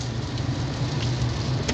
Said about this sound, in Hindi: हल्की हल्की बारिश हो रही है